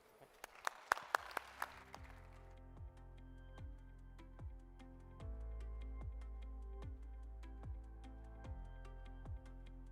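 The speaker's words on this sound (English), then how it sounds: "A big applause for our delegates." A conference audience at the Saudi International Iron and Steel Conference claps for its delegates in a brief, fairly loud burst, which fades after a couple of seconds into ringing, evenly spaced struck musical tones.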